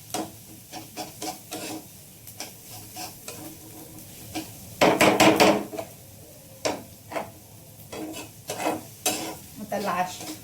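Egg bhurji being stirred in a frying pan, with repeated scraping strokes over a soft sizzle and a louder burst of frying midway; close and clear, no talking.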